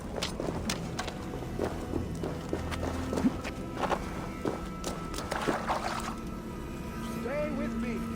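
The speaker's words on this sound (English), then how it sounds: "That sound. Is it thunder? Footsteps." Heavy footsteps approach in Assassin's Creed Valhalla, a steady run of thudding steps over ambient game sound, with voices speaking over them.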